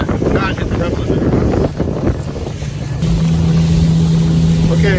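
A Sun Tracker Bass Buggy 16X pontoon boat's outboard engine revs hard near its limiter, a loud steady drone with a rising tone. Wind buffets the microphone, and the pitch jumps and holds higher partway through.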